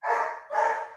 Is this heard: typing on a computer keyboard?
no